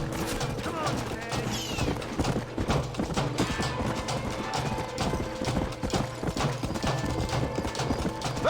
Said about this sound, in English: Get away from them horses